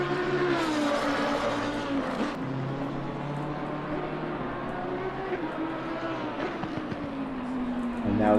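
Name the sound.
race car engine accelerating in video game Assetto Corsa Competizione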